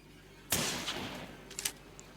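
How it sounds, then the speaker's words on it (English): A double-barrelled shotgun fires in the horror game Granny: one sudden, loud blast with a rough tail that fades over a second or so. A few fainter clicks and knocks follow. "Get that double shotgun."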